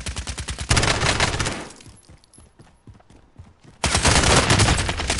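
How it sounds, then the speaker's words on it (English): Video game gunfire in a Call of Duty Gulag match: loud bursts of rapid shots, then a quieter stretch of scattered single pops before another sustained, close volley. "There was a guy shooting."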